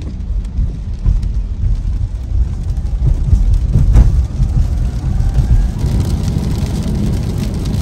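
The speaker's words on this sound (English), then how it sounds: "the rain is continuing here" Rain drums and roars around a Tesla driving on Autopilot, a dense continuous wash of wet road and cabin noise with low rumbling, heard up close without talking.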